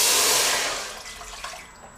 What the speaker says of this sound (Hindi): तो सबसे पहले हम एक बर्तन में पानी लेंगे।